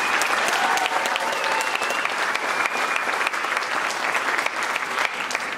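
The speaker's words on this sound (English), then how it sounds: "So another round of applause, please." Sustained audience applause at an elementary school Christmas program, a full, even roar of many hands clapping that holds steady from start to finish without voices.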